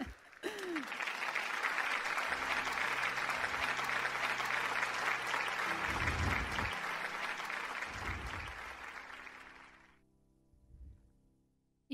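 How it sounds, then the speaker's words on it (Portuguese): Sustained applause from an audience at a business association's 30th anniversary gala, dense and steady for about ten seconds before fading out, followed by a short stretch of quiet with a faint voice beginning. "que merecem um aplauso também"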